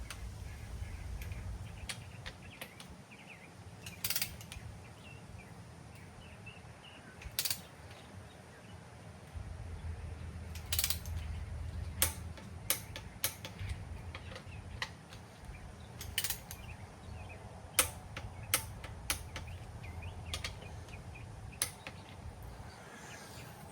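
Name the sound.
torque wrench torquing stock rod bolts on Chevy 350 engine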